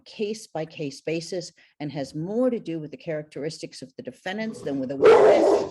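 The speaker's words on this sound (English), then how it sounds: "Sorry, that's my dog." A pet dog barks at close range near the end, a short burst of loud barks breaking in over someone speaking continuously in a formal debate.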